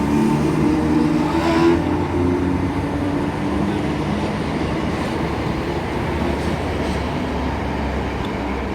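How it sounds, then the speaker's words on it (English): A Northern passenger train departs Broad Green station on the Liverpool to Manchester line, bound for Wigan North Western, with a loud, steady, close rumble of wheels and engine that holds throughout. "departing now is going to be the 1341 Northern service to Wigan North Western from Liverpool Lime Street"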